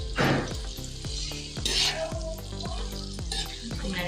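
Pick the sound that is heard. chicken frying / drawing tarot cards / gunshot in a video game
chicken frying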